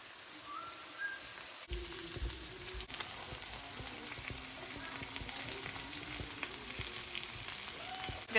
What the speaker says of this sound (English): It's going to cook and brown up, but we got the bacon grease with onions, potatoes, and ham